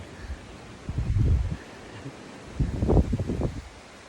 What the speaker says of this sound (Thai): ลมพัดแรงมากเลยตอนนี้ จับต้นไม้ก่อน จับต้นไม้ก่อน ลมพัดแรง